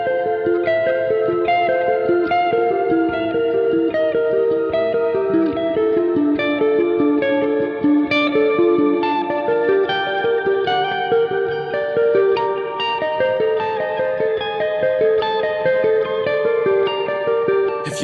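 An electric guitar plays sustained chords drenched in delay and shimmering reverb, notes echoing and blooming into a continuous wash with no talking.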